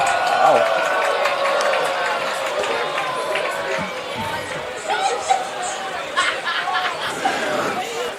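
A baseball crowd at a college game between Tampa and St. Leo keeps up a steady roar and chatter throughout, with a commentator talking over it.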